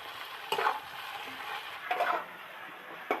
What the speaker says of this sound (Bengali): এবার টমেটো কুচিটা এর মধ্যে দিয়ে দিচ্ছি, দিয়ে নেড়ে চেড়ে এবার জল ঢেলে দেব